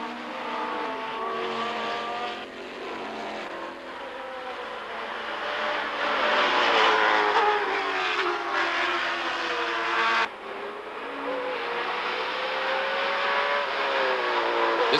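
Can-Am race cars at Lime Rock in 1985 roar close through the twisty turns, their engines rising and falling in pitch as several cars bunch up and sweep past one after another.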